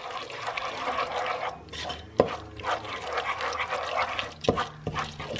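A spoon stirs Kraft or Annie's macaroni and cheese in a pot, giving a continuous wet, thick squelching close by, with a few sharp knocks of the utensil against the pot.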